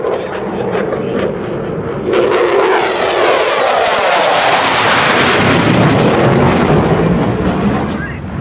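An F-16 Viper fighter jet at an airshow roars loudly as it passes, rising sharply to a sustained, rumbling blast that slowly fades. Faint voices can be heard beneath the noise.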